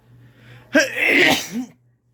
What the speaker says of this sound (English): Why do I sneeze each time?